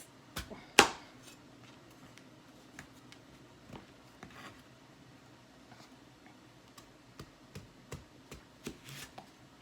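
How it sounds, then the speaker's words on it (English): A meat cleaver cuts leftover food into wedges on a board in a home kitchen: one sharp loud chop, then a run of lighter, irregular knife taps and clicks close by. "I cut it with my meat cleaver into wedges"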